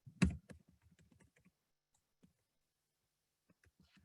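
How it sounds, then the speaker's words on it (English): Computer keyboard typing heard as a quick burst of close, crisp key clicks at the start, then sparse isolated taps separated by quiet gaps. "I'll just type it in here."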